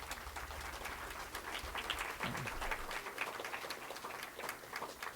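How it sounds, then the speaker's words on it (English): Faint, distant applause from an audience for a speaker series panel on the Olmstead Supreme Court decision, a soft continuous patter of clapping that swells slightly midway and then settles. "Can I have a round of applause for our panel?"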